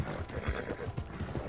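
Horse hooves clip-clop in a steady rhythm, with a brief whinny, from a horse ridden through the desert in Red Dead Redemption 2 Online. The hoofbeats are close and moderately loud, with no talk over them.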